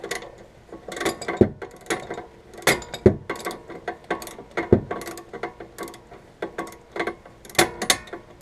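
Ratchet clicking while brake caliper bolts are tightened on a 2005 Subaru Legacy GT Limited, with repeated uneven bursts of close mechanical clicks and sharp knocks and no talk.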